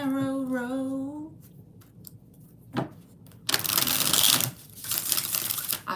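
Oracle cards being shuffled by hand in bursts of riffling and crackling, fairly close and moderately loud, after a brief musical tone at the start; no talking.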